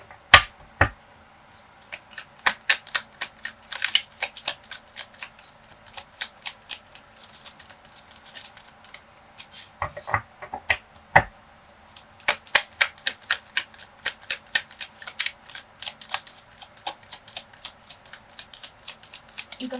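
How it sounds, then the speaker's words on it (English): A deck of tarot cards being shuffled repeatedly, with rapid riffling bursts and crisp snaps in quick succession, close and fairly loud, no voices. "You can fast forward this shuffling."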